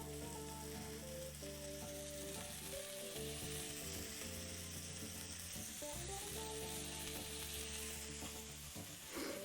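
Salted, peppered steaks fry in a large pan with a loud, steady sizzle that fills the whole stretch, with soft music underneath.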